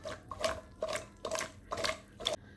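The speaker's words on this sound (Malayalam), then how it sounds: "ഒരു ഗ്ലാസ് വെള്ളം ഒഴിച്ച് നമുക്കിതൊന്ന് വേവിച്ചെടുക്കാം" A glass of water is poured in short bursts over cut vegetables for Kerala avial, the splashes coming in four or five separate pulses close by with brief quiet between them.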